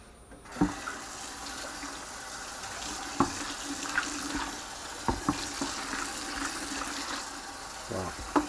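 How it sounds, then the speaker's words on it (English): Tap water runs steadily into a sink while gloves are rinsed and washed after laying floor tile indoors, with occasional sharp knocks and clunks over the flow, close and fairly quiet. "Might have to rinse that out. And wash my gloves."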